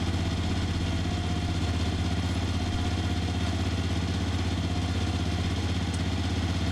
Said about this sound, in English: operating your 758 tow behind Spartan jetter. I've got her throttled up right now